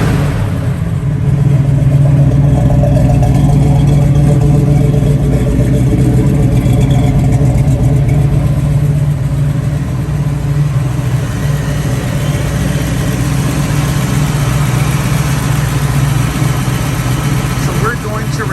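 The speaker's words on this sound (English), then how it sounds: "let's listen to the exhaust" A 1972 Chevrolet Nova's exhaust idles with a steady, low rumble, close and loud, holding an even drone throughout.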